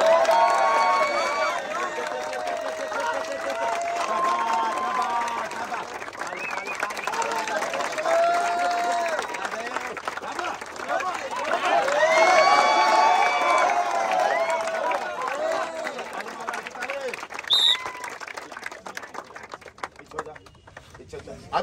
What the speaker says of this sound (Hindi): अभी ताली नहीं रुकना चाहिए